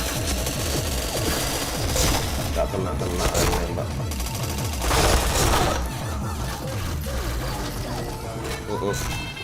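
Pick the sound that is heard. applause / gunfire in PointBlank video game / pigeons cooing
gunfire in PointBlank video game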